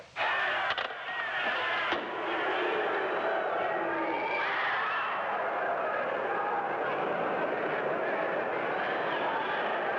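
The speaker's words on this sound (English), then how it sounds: "Listen to that crowd roar." A boxing arena crowd roars steadily at fight time in a 1953 TV broadcast, a continuous loud wash of cheering voices with a muffled, band-limited quality throughout.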